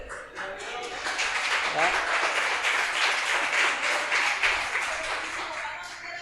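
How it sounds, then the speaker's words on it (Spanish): Sustained applause from an audience, dense and steady clapping at moderate distance, with voices audible beneath it throughout. "usted está aplaudiendo"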